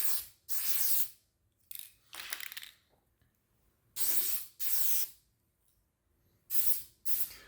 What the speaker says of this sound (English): moving on to spraying it, we're going to give her a quick spray